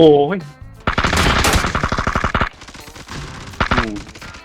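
PUBG gunfire rattles out as a long, loud automatic burst of rapid shots, with a second shorter burst afterwards, over a background of game sounds.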